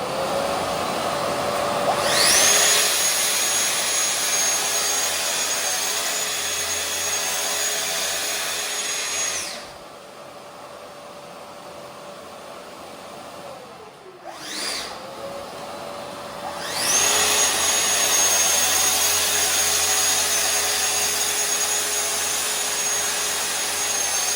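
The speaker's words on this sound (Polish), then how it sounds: "Natomiast już drugie cięcie to na gotowo robimy sobie już normalnie." A Festool plunge saw rips through wood in two loud, sustained cuts: the motor whines up, roars steadily through the board, then winds down into a quiet pause before the next pass begins.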